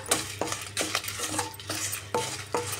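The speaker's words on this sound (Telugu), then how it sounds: "బాగా ఫ్రై చేసుకుందామండి." Gongura leaves in oil in a pan over a medium flame, stirred with a metal spoon, giving rhythmic scraping and clinking strokes about every half second, close, with only a faint sizzle underneath and no speech.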